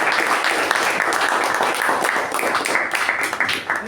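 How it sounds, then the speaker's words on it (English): A room of attendees at a Toastmasters club meeting breaks into steady, moderately loud applause, dense overlapping claps continuing for several seconds. "applause."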